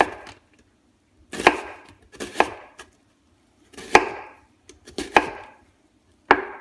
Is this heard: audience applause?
no